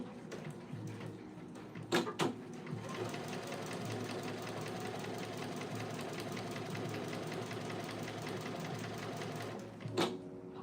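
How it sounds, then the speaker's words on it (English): A sewing machine runs steadily while top stitching fabric, a continuous even mechanical whir lasting several seconds, bracketed by a few sharp clacks at the start and end. "I'm gonna go ahead and top stitch this."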